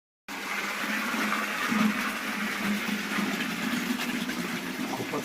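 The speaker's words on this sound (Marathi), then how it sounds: "तर आज बोरिंगला बघा खूप पाणी आलं आहे" Borewell water gushing steadily into a drum, cans and buckets, a loud continuous rushing splash that starts abruptly and holds at an even level to the end.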